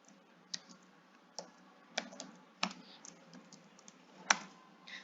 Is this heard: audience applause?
no